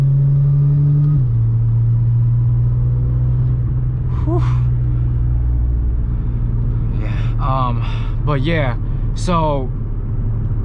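A steady low mechanical whine from an Audi S4's DSG transmission hums over the car engine's rumble while someone talks near the end.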